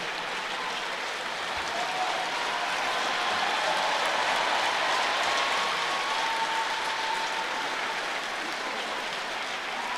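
Sustained applause from a staff audience at a company award ceremony during an annual staff retreat, a dense, steady wash of many hands clapping at even loudness for the full stretch, with no talk.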